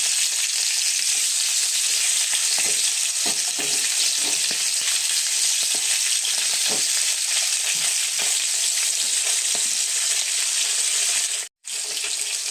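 Catla fish pieces rubbed with turmeric and salt fry in hot white oil, a dense steady sizzle dotted with crackles and pops, briefly cutting out near the end.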